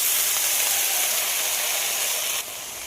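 Washed spinach-like greens go into hot oil with fried onion and garlic, setting off a loud, continuous sizzling hiss that abruptly softens near the end.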